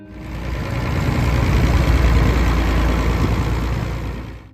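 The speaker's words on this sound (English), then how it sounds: "just hearing that low Perkins rumble brings back memories" A deep Perkins diesel tractor engine from the 1970s rumbles steadily at idle, loud and close, swelling slightly then easing off, with no one talking.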